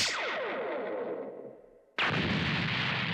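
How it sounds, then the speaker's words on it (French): A flash grenade goes off in a One Piece game, a sudden loud burst that cuts in after a fading, echoing tone and then holds as a dense, bright wash of noise to the end. "Oh, la grenade flash!"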